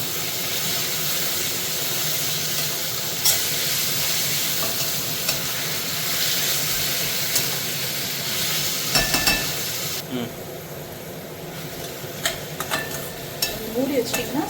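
Onions and tomatoes fry in a pan for a spicy chicken gravy, giving a close, steady sizzle and hiss with occasional stirring scrapes and clinks throughout.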